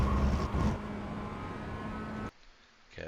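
Mazda MX5 engine at full throttle in iRacing at Motorsport Arena Oschersleben, a steady loud buzzing drone that cuts off abruptly near the end before picking up again.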